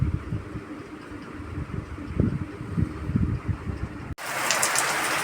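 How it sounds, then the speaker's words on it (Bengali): Heavy pouring rain outdoors: a dense, steady hiss with scattered patter, which cuts abruptly to a louder, brighter wash of rain near the end. "কি জোরে জোরে বৃষ্টি পড়ছে দেখো"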